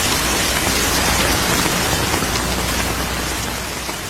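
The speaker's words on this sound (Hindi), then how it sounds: "वर्षा करवा दी" Steady, dense rain pours down without pause, a loud, even hiss that fades slightly toward the end, with no voices.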